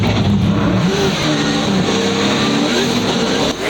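Turbocharged LS-swapped Subaru BRZ drift car on Falcon tires revs hard at Formula Drift Seattle, loud rising and falling engine tones with rapid throttle stabs, a commentator talking over it.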